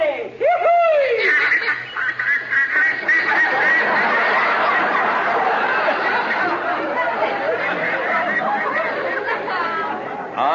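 A voice imitates a duck's quacking in a rapid, steady run of nasal quacks, loud and close, with chatter and laughter woven through, set among radio-comedy talk about Army planes and duck hunting.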